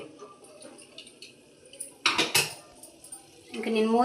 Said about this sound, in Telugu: ఇంకా నేను మూత పెట్టానండి